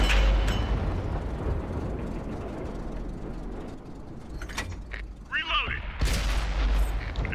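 Tank cannon shots and explosions in the World of Tanks console game, bursts and booms over battle noise, with a player talking over the action.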